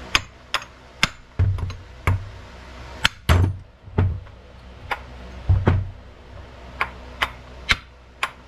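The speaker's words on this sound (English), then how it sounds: "I'm going to hold up on the flywheel and I'm going to hit right here" A hammer strikes a nut threaded onto the flywheel of a Stihl HT 131 pole pruner engine, a dozen or so sharp metallic blows at uneven intervals, close and loud with brief ringing after each hit.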